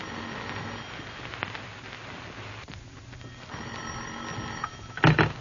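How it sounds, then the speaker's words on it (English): An old-fashioned telephone bell rings in an office in a series of bursts, loud and close, with a clatter at the end as the receiver seems to be picked up. "and finally the phone rings."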